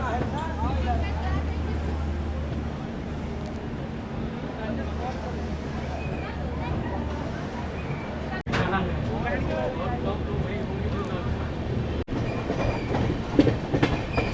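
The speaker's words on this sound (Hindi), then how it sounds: "सुल्तानपुर रेलवे स्टेशन निकलने के बाद बहुत शानदार एक कर्व आता है, तो अभी वहीं पहुंच गई है ट्रेन अपनी।" The Kashi Mahakal Express rolls around a curve after Sultanpur station, with continuous rumbling wheel noise and rattling carriages heard from inside the coach, and people talking beneath it.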